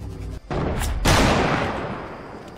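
Shotgun blasts in Fortnite's Sniper Shootout limited-time mode: two loud, booming shots in quick succession, the second with a long rumbling decay, heard alone with no talking.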